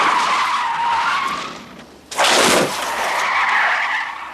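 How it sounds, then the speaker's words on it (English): Cars skid and rev loudly through a film car chase on steep San Francisco hills, with a sustained tire squeal and engine roar, then a sharp, louder skid burst midway before the engines drone on. "Where you have the cars on the San Francisco hills just revving way over the top of everything"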